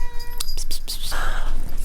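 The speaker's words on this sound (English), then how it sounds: "my cat is emerging." A cat meows close by, a short sequence of mews and chirps at normal loudness, with a person's voice speaking softly around it.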